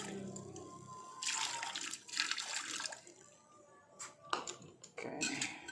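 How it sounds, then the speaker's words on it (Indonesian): Hot water poured over thin IC chips during gold and silver recovery with nitric acid and aqua regia. The liquid splashes and gurgles in several bursts with pauses between them, fairly close. "Yuk kita siram air panas"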